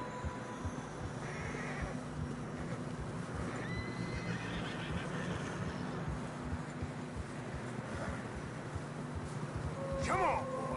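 Horses ridden along a narrow trail through fresh snow, with a neigh over steady background noise and a louder whinny near the end.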